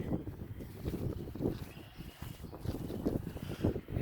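Outdoor wind gusts in low, rumbling bursts against the microphone while a two-person Stansport Scout backpacking tent is being set up, fairly faint with a few fabric rustles.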